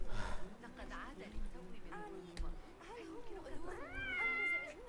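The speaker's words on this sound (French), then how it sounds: "Il est vilain quand même, le chat." A cat meows repeatedly in Assassin's Creed Mirage, several rising and falling cries close by, the last one long and high, with game sounds and some voice around them.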